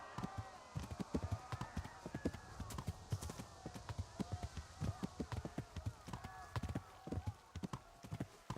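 Horse hooves clip-clop in a steady walking rhythm in the medieval game Kingdom Come: Deliverance, crisp repeated thuds close and clear over quiet ambience, with a voice speaking at moments.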